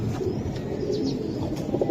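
A male Hammer pigeon cooing: low, soft rolling coos repeat close to the microphone over a steady murmur, with no talk.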